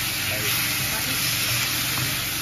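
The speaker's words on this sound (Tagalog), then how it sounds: "Gigisa natin siya." Shrimp sizzles as it is sautéed for a corn dish, giving a dense, continuous frying crackle that stays close and even throughout.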